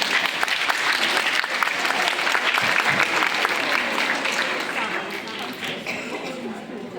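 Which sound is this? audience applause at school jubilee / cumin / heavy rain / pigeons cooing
audience applause at school jubilee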